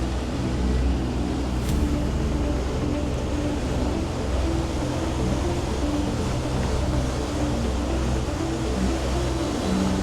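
A sailing boat's inboard engine holds steady at 2,500 revs in a 3 m swell while crossing Queensland's Wide Bay Bar, a continuous low droning hum blended with wind and water noise throughout.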